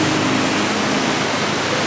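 The fast-flowing Alaknanda river at the Panch Prayag confluence in Uttarakhand makes a loud, unbroken rushing roar of churning water.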